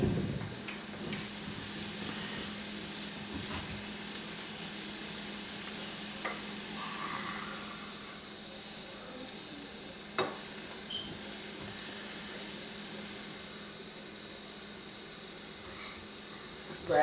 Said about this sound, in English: So you want to saute them for about 10-15 minutes.